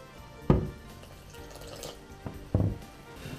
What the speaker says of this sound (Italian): Io preferisco mettere l'acqua tiepida.